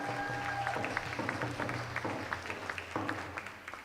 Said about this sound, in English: could we please give her now another round of applause?